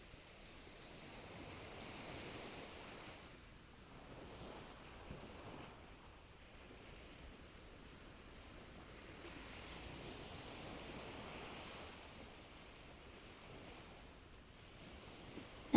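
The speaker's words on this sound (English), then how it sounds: "The waves are washing up and crashing into the rocks." Ocean waves wash up onto a sandy beach and crash into big rocks and coral, a soft rolling surge that swells and recedes in slow cycles, fairly faint and distant with no voices.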